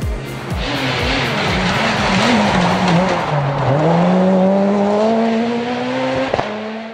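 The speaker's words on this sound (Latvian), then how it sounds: "Sportisti viens pēc otra dodas trasē." Rally cars at a European Rally Championship stage in Liepāja, run on an autocross track, pass one after another with loud revving engines, rising and falling gear changes and tire noise, close up against a crowd-like background roar.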